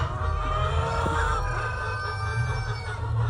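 Chickens clucking and murmuring nearby on a poultry farm over a constant low hum, with a rooster-like call in the mix.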